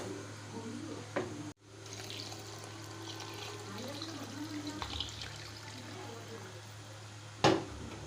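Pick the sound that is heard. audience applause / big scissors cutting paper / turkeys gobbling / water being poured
water being poured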